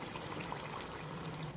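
A little water is poured into sizzling, well-fried chicken kofta curry masala, a brief, steady trickling pour close by, with no talking.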